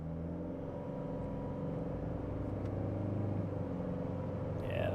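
A Toyota 250 Series Prado with an 8-speed gearbox pulling hard under acceleration, a steady, loud low engine drone heard from inside the cabin, rising slightly toward the end.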